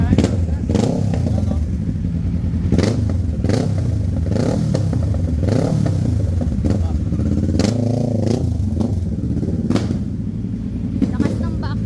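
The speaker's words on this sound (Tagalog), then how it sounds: "Lakas ng backfire." A Kawasaki Ninja 650 motorcycle runs close and loud, its exhaust giving repeated sharp popping backfires over a constant engine roar.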